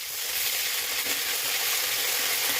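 Ginger and green chilli paste sizzles in hot oil in a pan with onions and tempering spices, a steady close hiss and crackle throughout with no talk.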